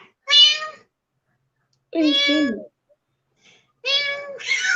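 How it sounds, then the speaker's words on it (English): A small cat meows loudly up close, three drawn-out cries spaced by silence, with a person's voice speaking briefly among them. "I hear a cat."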